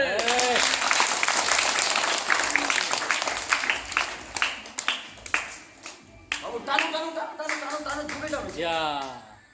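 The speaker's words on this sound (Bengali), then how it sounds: "হাততালি দেবে।" An audience claps at a magic show in bursts of dense applause, fading to scattered claps, while a voice speaks over and between the clapping.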